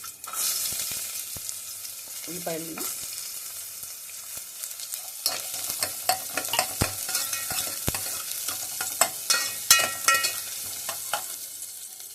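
Onions fry in hot oil in a pan for a ganji recipe, with a steady, loud hissing sizzle throughout and a spoon stirring and scraping in close, irregular clicks over the top.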